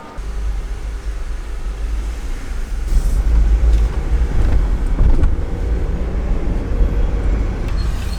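A Jeep JL Wrangler out on a test drive after steering tie rod and toe-in adjustment, with a loud, steady engine and road rumble inside the cab that swells slightly partway through.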